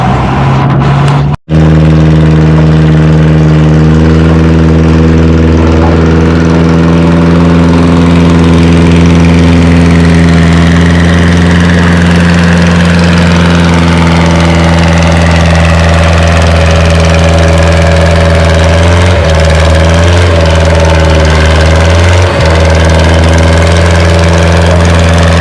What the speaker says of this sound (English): Alright, we got Lauren's dad Marv getting on the sled on his Ford 800.